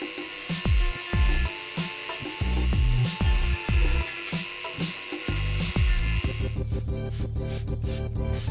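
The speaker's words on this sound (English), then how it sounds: "I removed the corrosion with a power tool." A small power tool whirs in short repeated bursts, grinding corrosion off a Mercedes-Benz 190E W201 air filter housing, then shifts to a buzzier, rattling scrubbing sound toward the end.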